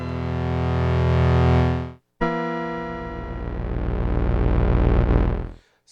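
A Korg Poly-800 synthesizer plays sustained notes, one oscillator with a long attack and the other with a short attack, giving thick buzzy evolving tones that swell and fade, with a brief gap between two loud held sounds.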